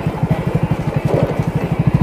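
A motorcycle chugs along a rough, bumpy forest road, its engine thumping in a steady rapid pulse, close and moderately loud, with no talk.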